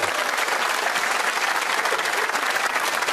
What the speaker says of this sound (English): Big round of applause for Jay.